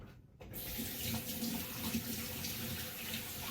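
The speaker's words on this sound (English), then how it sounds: "Wash those hands." Water running steadily from a kitchen tap into a sink while hands are washed, a close, continuous splashing rush that starts abruptly after a brief quiet moment and carries on without talk.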